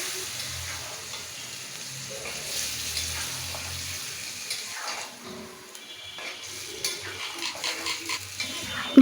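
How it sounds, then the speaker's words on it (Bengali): A spoon stirs ground spice paste with bay leaves in a hot pot for chicken kosha, giving a continuous soft sizzle with scraping and stirring movements that grow a little busier toward the end. "দিয়ে ভালো করে নাড়িয়ে চাড়িয়ে নিব।"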